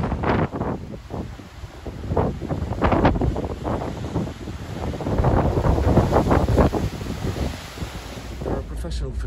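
Strong wind buffets the microphone on the open deck of the Cunard cruise ship Queen Elizabeth, gusting in loud irregular bursts over a constant rushing roar, with the sea audible beneath.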